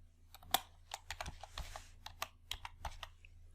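Keys on a computer keyboard are tapped in a quick, irregular run of soft clicks, close and quiet with no other sound.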